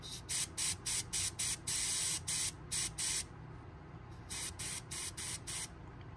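An airbrush sprays candy paint onto a fishing lure in short, rhythmic bursts of sharp hiss, about a dozen quick pulses with a brief pause between groups, close to the listener.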